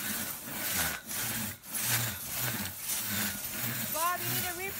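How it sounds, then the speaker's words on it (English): Rhythmic back-and-forth strokes of a crosscut saw cutting through wood, close by, with short pauses between strokes and a voice briefly heard at the end. "I'm still sawing"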